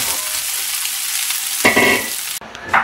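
Small mola fish fry in hot oil with a steady, close sizzle that fills the clip, briefly broken near the end by a sharper burst of spattering and stirring.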